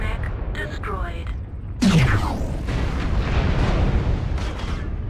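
A mech in MechWarrior Online blows apart with a sudden heavy boom and a falling roar, followed by a long, rumbling rush of debris and noise, under continuous battle sounds.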